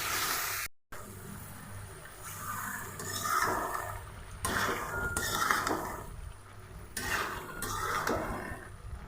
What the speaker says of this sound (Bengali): এখন আমি আলু, পটল আর বেগুন দিয়ে ভালো করে কষিয়ে নিব।